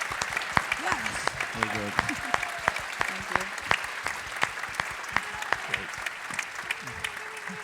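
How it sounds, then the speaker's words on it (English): A live audience gives a hearty round of applause to a glassblowing panel, dense sustained clapping with sharp individual claps standing out, while a voice speaks briefly over it near the start. "Let's give our panel here a hearty round of applause"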